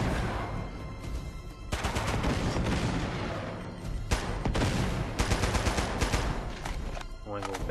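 Gunfire in the action game Uncharted: Golden Abyss, dense bursts of rapid shots and automatic fire running almost nonstop, loud and close, with a voice speaking under the shooting.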